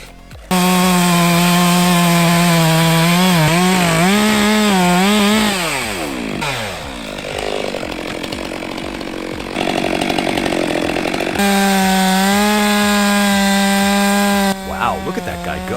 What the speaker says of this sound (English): The Steel MS 462 chainsaw is a high-performance saw clearly designed for this type of large-scale timber work.